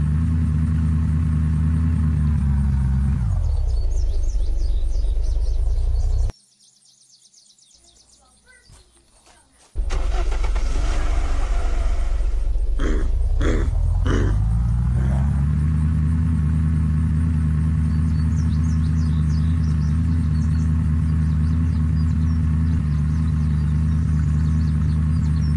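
A car driving in the video game Unturned hums with a steady engine drone that dips out briefly, then returns with clicks and a rising rev before settling into an even, continuous tone.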